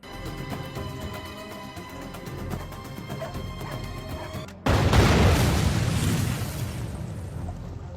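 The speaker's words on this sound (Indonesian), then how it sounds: "Ketika anak buah Jarda tiba di lokasi, ledakan pun terjadi." A sudden loud blast cuts in partway through, a broad roaring explosion that follows a tonal, musical stretch and lingers as heavy rumbling noise.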